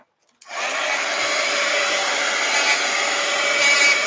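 A hair dryer switches on and blows steadily over freshly painted paper, a close, constant whooshing hum after a brief click at the start.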